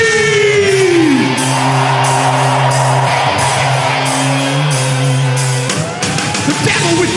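A crowd at a political convention screams and shouts in a sustained roar under loud music, with a voice calling out over it and the noise holding steady throughout.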